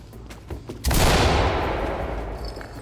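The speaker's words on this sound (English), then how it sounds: "Toss a flashbang all the way over there." A flashbang detonates in the tactical shooter game Ready or Not: one sudden, loud blast after a few faint knocks, followed by a long hissing, ringing decay that slowly fades.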